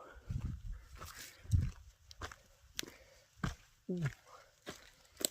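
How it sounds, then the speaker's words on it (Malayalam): A dog gives scattered short barks and whimpers close by, mixed with rustling and shuffling footsteps, with quiet gaps between the sounds. "ഇവനാണ് നമ്മുടെ ഗൈഡ് ഡോഗ്."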